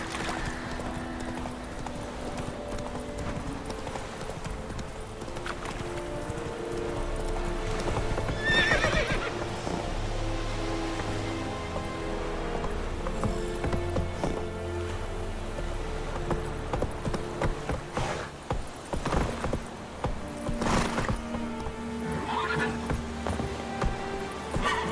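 Hooves clip-clop rhythmically as a horse gallops in The Witcher 3, with a neigh and whinny rising midway, over game music and ambient sound.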